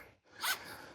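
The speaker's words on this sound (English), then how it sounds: "zip down one side, fold in a little bit on the second, zip down two" A zipper on a zip-up outdoor picnic blanket is pulled in one quick, close rasping stroke after a brief pause, with no talking.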